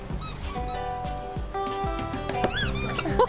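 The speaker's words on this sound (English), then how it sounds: "The dog's squeaky toy makes a squeaky, squeaky noise" A dog's squeaky toy lets out a string of bright, high squeaks in quick bursts, close and fairly loud, with children's TV music and background tones running underneath.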